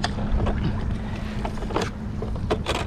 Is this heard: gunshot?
no